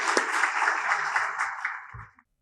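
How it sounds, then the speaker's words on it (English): Applause from a conference audience for panel speakers, a steady wash of clapping that carries on for about two seconds and then fades out, slightly distant. "One more applause for the speakers"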